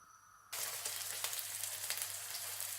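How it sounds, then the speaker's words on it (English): A homemade burger fries in a pan, starting abruptly after a brief quiet moment and then crackling and sizzling loudly and steadily with small pops. "That's frying nicely."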